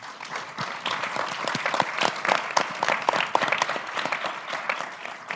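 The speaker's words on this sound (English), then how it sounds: "Can we have a quick round of applause for Tom and his analysis?" A seated audience at an education forum gives a round of applause for a speaker, a steady wash of many hands clapping, moderately loud and close, with no talk over it.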